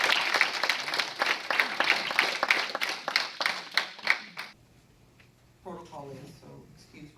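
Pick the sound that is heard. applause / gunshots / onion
applause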